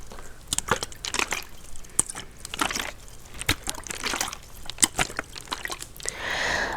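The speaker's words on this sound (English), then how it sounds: "most of the time we take very small sips of your so-called water" Small sips of water drunk in close-up, a series of soft wet slurps and swallows in an uneven rhythm, with a brief hissy burst near the end and no talk.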